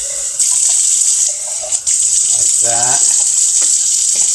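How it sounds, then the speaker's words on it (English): Cold tap water runs steadily into an Alfredo sauce jar as it is rinsed in a kitchen sink, a loud continuous rushing stream, briefly interrupted once, while a person talks over it. "this is when I start rinsing them out."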